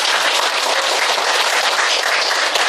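Loud, dense applause from a fashion show audience fills the hall, many hands clapping steadily and close by, with no pauses.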